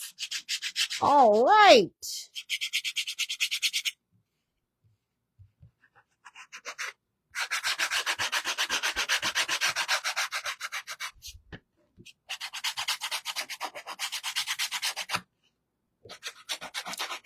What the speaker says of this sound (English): This is a gator sander.